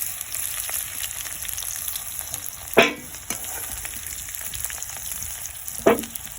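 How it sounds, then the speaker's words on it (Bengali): Potatoes fry in hot oil in a pan, a steady close sizzling hiss broken by two sharp clatters of stirring or utensil contact, with no talking. "আমি 2 মিনিট ধরে আলুগুলো ভালো করে ভেজে নিয়েছি।"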